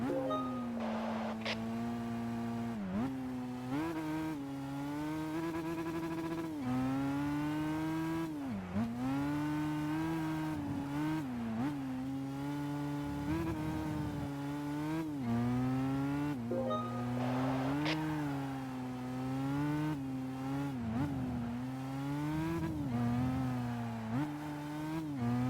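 Race car engines in Gran Turismo 5 roar continuously with strong harmonic whine, repeatedly revving up and dropping through gear shifts in a steady rhythm, loud and close throughout.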